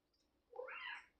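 A house cat gives one soft, rising meow, brief and faint against a quiet room.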